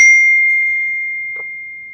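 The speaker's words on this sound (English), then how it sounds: "I don't know how my notification started dinging again." A phone notification gives a single bright electronic ding that rings out and slowly fades over two seconds, loud and alone, during a virtual meeting.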